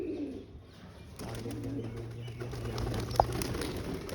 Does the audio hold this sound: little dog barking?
no